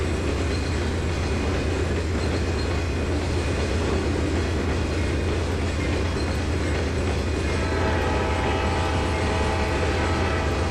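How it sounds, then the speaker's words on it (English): A passenger train rumbles past in the Trainz 2022 railway game, a loud, dense, continuous roar of wheels and engine with a sustained horn tone entering near the end. "Maybe I blew the horn too early. No, I didn't. There goes the passenger train."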